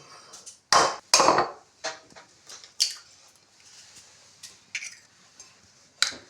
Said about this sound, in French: casser les œufs